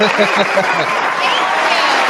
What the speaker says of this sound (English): Cheers and applause, Tyler.